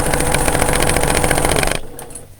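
A sewing machine stitches a quilt block for an evening star pattern, a loud, fast, steady mechanical whir of rapid stitches that stops abruptly near the end, followed by a few faint clicks.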